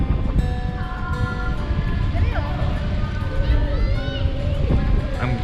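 Heavy wind buffeting the microphone outdoors in Bacong, a constant low roar throughout, with voices faintly audible underneath.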